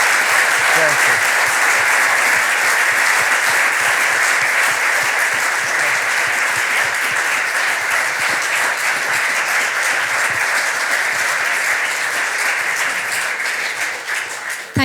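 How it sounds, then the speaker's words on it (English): An audience applauding after a guest lecture on European power politics, loud sustained clapping from a large crowd filling the whole stretch and tapering slightly at the very end. "perhaps we could raise our hands for another applause for Robert D. Kaplan"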